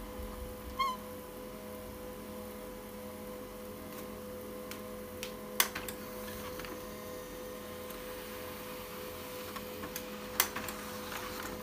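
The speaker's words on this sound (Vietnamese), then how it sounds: "Các bạn nghe thấy tiếng máy in chạy ha." A Canon LBP 2900 printer running with a steady low mechanical hum, interrupted by a few sharp clicks and ticks at irregular intervals.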